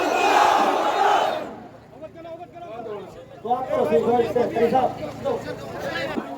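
A large crowd roars back in unison to a Takbir chant at a Waqf Act gathering in Lilong, a loud massed shout that fades, then swells again into a second ragged wave of many voices.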